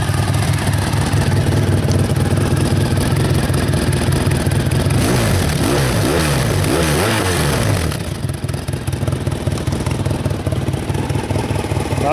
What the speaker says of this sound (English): it's got this lovely V4 sound. So let's just listen to this awesome exhaust